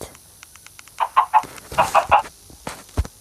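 A chicken in a Minecraft-style game clucks in two quick runs of three short, clipped clucks, close and clear over faint background clicks.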